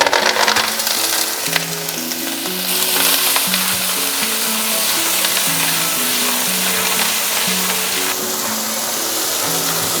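Clams land in a hot pan with garlic and salt, setting off a loud, steady sizzle and frying hiss that carries on without a break, with a faint low hum underneath.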